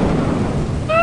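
Stormy weather in the video game Lethal Company, a steady broadband rush of rain and rumbling thunder filling the short stretch, with brief tonal game sounds rising near the end.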